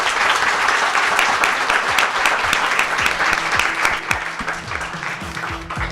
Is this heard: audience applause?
yes